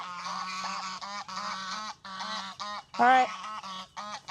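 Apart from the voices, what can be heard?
geese honking on a farm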